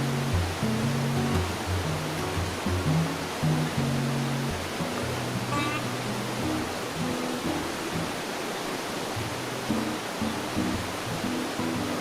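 The Isère river rushes close by in a loud, steady roar of flowing water that never lets up.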